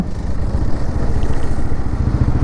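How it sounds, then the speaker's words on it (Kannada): A TVS Apache RTR 160 4V motorcycle running steadily and loud up close, a throaty engine rumble with slight clatter as it is downshifted, with no voices. "ಡೌನ್ ಶಿಫ್ಟ್ ಮಾಡ್ತೀನಿ ನೋಡ್ಕೊಳ್ಳಿ ಗೇರ್ ಸೌಂಡ್ನ."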